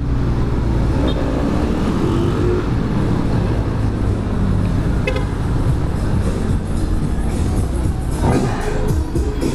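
A Benelli 502C motorcycle on a test ride, its engine a loud continuous roar with strong low rumble, heard close against heavy wind and road noise, with a faint toot and no clear talking.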